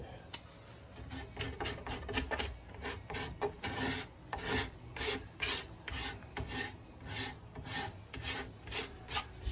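A cabinet scraper shaves a wooden guitar neck in quick, rhythmic rasping strokes, close and steady throughout, with brief pauses between passes.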